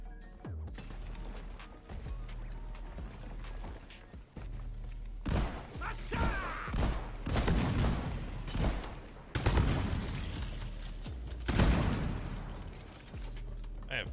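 Shotgun blasts in the Deep Rock Galactic video game, several heavy booming shots with crashing impacts spread unevenly over a droning game background while someone talks.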